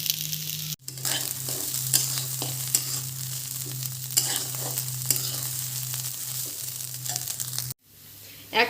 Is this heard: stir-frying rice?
yes